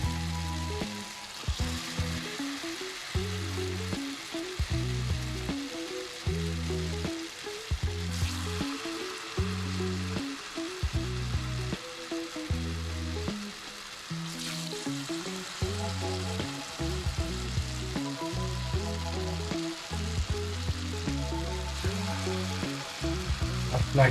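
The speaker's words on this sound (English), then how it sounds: "Let it swim on a vegetable oil." Banana frying in vegetable oil, an ongoing crackling sizzle with a regular pulsing rhythm throughout, close and moderately quiet, with no talking.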